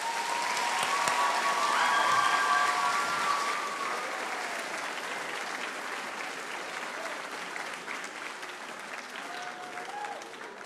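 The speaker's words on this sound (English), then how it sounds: "So let's give him a round of applause." Sustained audience applause at a youth honor band concert, a dense broadband patter loudest over the first few seconds then easing to a steady clapping roar, with faint voices and a few tonal cheers mixed in.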